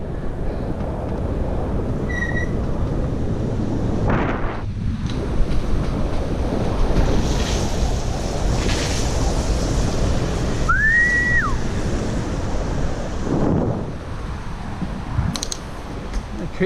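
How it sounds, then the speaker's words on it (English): Steady rushing of a creek swollen by recent rain fills the whole stretch, with a couple of brief, high bird chirps rising over it. "The creek's nice and filled up with this rain we got just earlier today."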